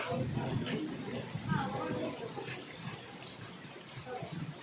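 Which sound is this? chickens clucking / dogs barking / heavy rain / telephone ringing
heavy rain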